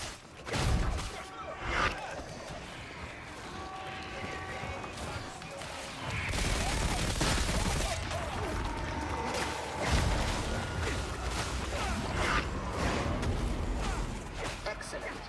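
Gunfire in the video game Darktide, shooting at demonic growths: repeated bursts of shots and heavy impacts, loud and sustained over much of the span, with a voice speaking at points.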